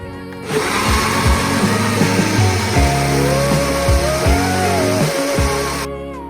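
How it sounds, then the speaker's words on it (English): A kitchen blender whirs steadily through a yeast mixture for a savory dinner dish, a loud continuous motor drone with wavering pitch that cuts off abruptly near the end. "I'm going to blend it to make sure all the yeast gets blended in really good"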